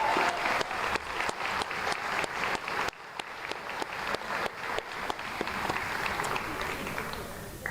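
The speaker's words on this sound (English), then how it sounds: "if we can give the good folks at Roots a round of applause" Clapping at an alumni banquet, sharp regularly spaced claps near the listener over a softer spread of applause from the tables, with a brief dip partway before the clapping resumes and builds into a fuller crowd sound.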